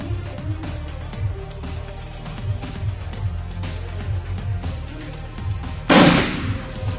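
Gunfire in the video game Shadowrun Returns: a single loud, sharp blast rings out near the end over a busy, continuous game soundscape of music and effects.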